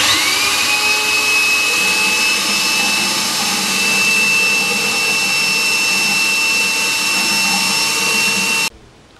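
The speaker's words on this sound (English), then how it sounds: "a piece of 22mm copper pipe in the end of a wet and dry vacuum cleaner" A wet and dry vacuum cleaner with a length of 22mm copper pipe in its hose end sucks sludge and dirt out of a Nuffield/Leyland halfshaft housing, a loud steady whine with a rising pitch that runs continuously, then cuts off abruptly near the end.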